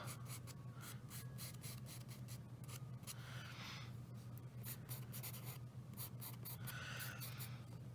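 Chalk pastel rubbed very lightly across paper while coloring fur detail in a coloring book, a soft, close, continuous scratchy whisper in short repeated strokes over a low steady hum.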